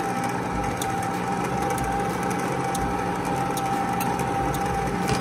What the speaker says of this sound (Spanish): Dejamos que mezcle bien la harina.